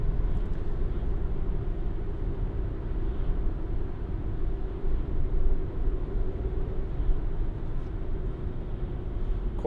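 A 2015 Volkswagen Transporter Shuttle van drives along, heard from inside the cabin as a steady low engine and road rumble with no talking.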